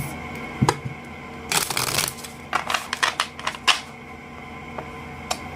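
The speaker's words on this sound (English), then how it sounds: "I'm just shuffling the deck" Crisp riffling bursts of a deck of cards being shuffled, a few separate flurries with soft taps in between, close and quiet.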